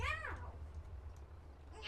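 A pet cat indoors lets out a short, faint meow at the start, followed by quiet room hum and a brief soft sound near the end.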